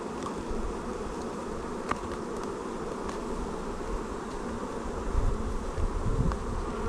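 Dense, steady buzzing of many honeybees swarming around an open hive during a demaree split, a close, continuous drone with individual bees swelling louder as they pass nearby.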